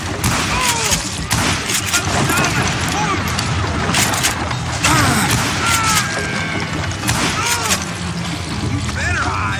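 Gunfire in a shootout in the video game Call of Juarez Gunslinger, with dense overlapping shots, crashes and impacts that go on without a break, under shouted voices.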